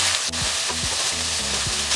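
Chicken coated in chili powder sizzles loudly in a pan over a low flame, with steady frying hiss and a few scraping stirs, close up and without voices.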